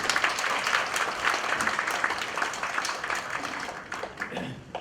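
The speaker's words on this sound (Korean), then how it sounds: "박수로 하겠습니다" An audience claps steadily at a Korean policy forum on welfare recipient selection criteria, a dense, even wash of applause sustained for several seconds and easing slightly near the end.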